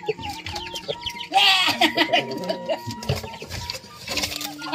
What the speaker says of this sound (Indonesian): Ini ayam pelung dia nih, ayam pelung.